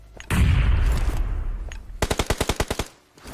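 Gunfire in a multiplayer squad shooter game: a loud blast with a rumbling tail, then a rapid burst of about ten evenly spaced automatic shots, close and unaccompanied by talk.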